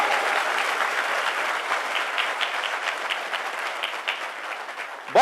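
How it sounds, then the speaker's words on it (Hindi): An audience claps steadily in a dense, loud wash of applause at a motivational network marketing talk, holding even for several seconds before a brief voice cuts in at the end. "जोरदार तालियां अपने लिए"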